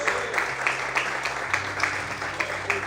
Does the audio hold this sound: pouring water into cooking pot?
no